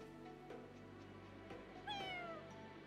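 A cat meows in the video game Fire Emblem Engage, one short rising-then-falling meow heard over steady in-game background music.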